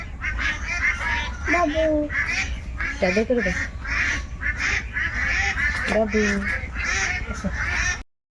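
Several egg-laying ducks quack loudly and repeatedly nearby, honking calls overlapping in bursts over a steady background hum.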